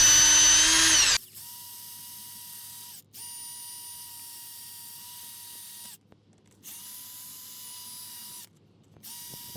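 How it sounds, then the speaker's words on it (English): A power drill whirs steadily while widening a mounting hole for an aftermarket carburetor on a Honda Express NC50 scooter, starting with a loud burst, then running in a few long even passes separated by brief stops. "We just gotta drill out this hole a little bit to make it a little bit more on the inside."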